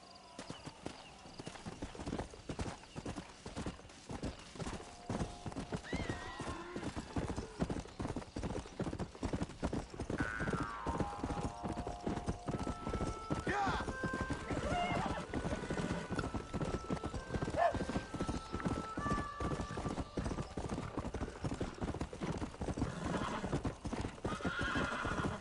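A horse in the Red Dead Redemption video game gallops with rapid, steady hoofbeats throughout, while several whinnies and neighs ring out over the running, close and clear.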